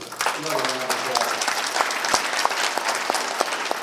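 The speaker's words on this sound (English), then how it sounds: "let's give them another round of applause" Audience applause at a film premiere night, brisk, dense clapping from an indoor crowd with sharp individual claps standing out, while a voice briefly carries over the start.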